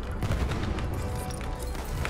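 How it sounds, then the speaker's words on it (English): Gunfire in the World War I shooter Battlefield 1, including a shotgun blast, heard as dense, loud, booming shots close by with continuous battle noise around them. "I shot him with a shotgun"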